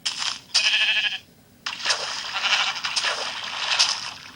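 Sheep in Minecraft Pocket Edition bleat in two loud, close, drawn-out cries, the first broken off by a short pause and the second running on longer.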